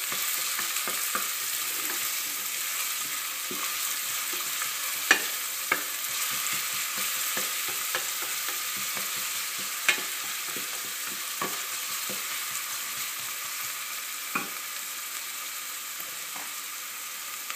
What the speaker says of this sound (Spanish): Y lo rehogamos un poquito. Añadimos un poquito de sal para que le ayude a sudar a la cebolla.